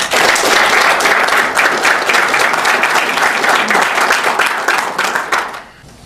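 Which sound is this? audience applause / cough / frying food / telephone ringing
audience applause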